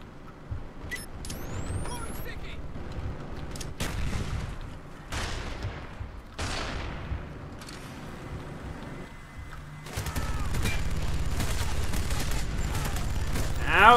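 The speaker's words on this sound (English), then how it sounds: "Minigun it is." A minigun fires in the Black Ops video game, with several loud bursts of rapid gunfire separated by brief lulls and a longer, sustained burst toward the end.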